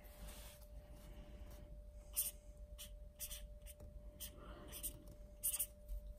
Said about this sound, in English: I want you to write your initials on the card